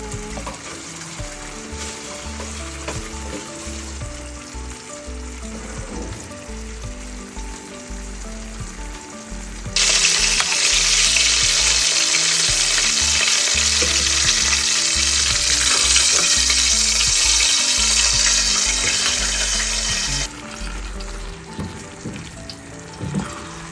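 Egg frying in a pan alongside bitter gourd, a steady crackling sizzle that swells into a loud, dense hiss midway for about ten seconds before settling back to a softer fry.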